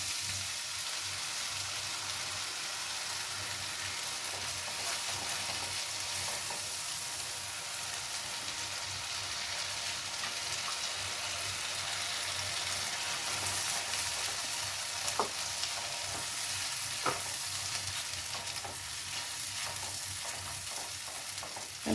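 Spice paste with onion, chilli and turmeric frying in oil in a pan for a cauliflower and potato curry: a steady, close sizzle throughout with occasional sharper pops and no voices.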